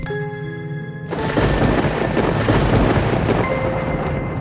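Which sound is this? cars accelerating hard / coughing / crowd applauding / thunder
thunder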